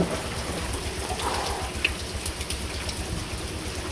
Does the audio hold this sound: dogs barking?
no